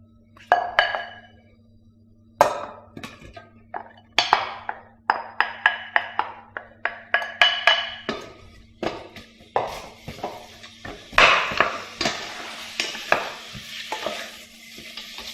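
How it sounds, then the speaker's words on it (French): Onions sweat in hot rapeseed oil in a pan while a utensil stirs them. Repeated scraping clinks sit over a sizzle that grows denser and brighter toward the end, close and fairly loud, with no talking. "Et dès que c'est chaud, on fait suer les oignons."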